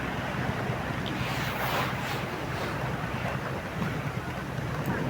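Steady wind roars over a beach with surf washing continuously in the background, loud and broadband throughout with no clear individual wave breaks and no talking.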